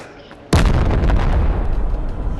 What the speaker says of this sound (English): We both exploded.